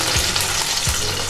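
Paneer fries in a pan with a loud, dense, continuous sizzle, broken twice by low thumps from stirring or shifting. No one speaks.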